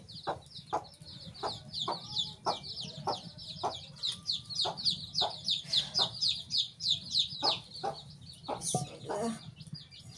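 A hen clucks repeatedly in a rhythmic series of short calls, fairly close, over a low background hum.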